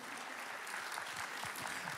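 A church congregation claps for the worship team at a Saturday night service, a steady, dense wash of applause filling the room from start to finish with no talking.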